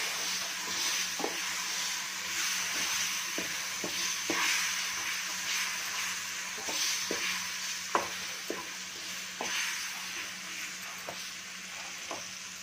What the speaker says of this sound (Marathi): इथे मी एक वाटी मँगो पल्प घेतलेलं आहे. हे छान मिक्स करून घ्यायचं आहे.